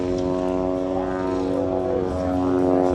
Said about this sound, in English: There's a plane up there doing its thing.